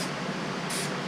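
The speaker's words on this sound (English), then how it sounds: "Now we're going to spray the carbon fiber with a light coat." An aerosol spray hisses steadily as a light coat is applied to a carbon fiber interior piece for an E36, a close, continuous broadband spray with a brief brighter burst near the end.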